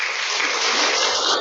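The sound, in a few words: congregation applauding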